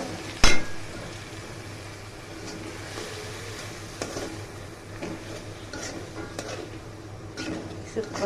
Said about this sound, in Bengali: তারপর ভালো করে নাড়াচাড়া করে নেব